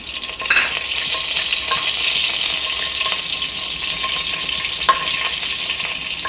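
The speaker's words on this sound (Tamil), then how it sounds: "வெந்தயம் போட்டு எப்போவுமே பொரிஞ்சு வரட்டும்" Steady crackling sizzle of seeds frying in hot oil, continuous and close, with a couple of faint clinks from a utensil.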